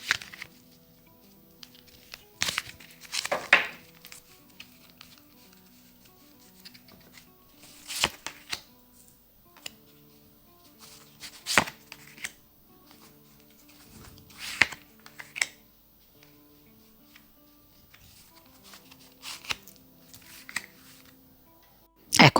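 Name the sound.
shuffling a deck of Doreen Virtue angel tarot cards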